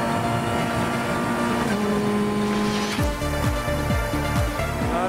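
A race car braking hard on a racing circuit, heard from the cockpit, with loud engine drone whose pitch drops in repeated downshift steps as it slows into a corner.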